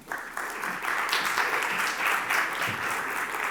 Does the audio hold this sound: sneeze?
no